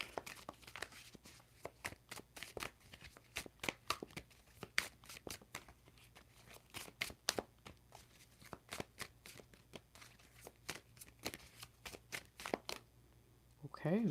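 Tarot cards are shuffled by hand in a long run of crisp, quick riffling bursts, close and fairly quiet, with irregular pauses between clusters.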